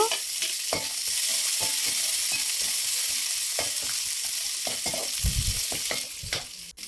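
Cashews, onions, carrot and green chillies frying in hot oil for veg pulao, a steady close sizzle with scraping stirs throughout and a louder burst near the end, no voices.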